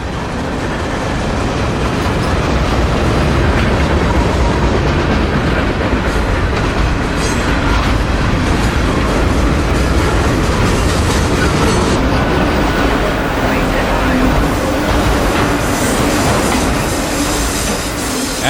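A long freight train rolls steadily past at close range, its boxcars and autoracks grinding and rumbling in a continuous loud wash of wheel and rail noise, with occasional faint squeals, near an interstate on the Auburndale Sub in Florida.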